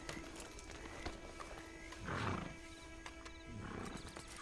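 Horse in the video game Red Dead Redemption 2, with soft hoof clip-clop and a brief louder snort or whinny-like burst midway over a steady background hum.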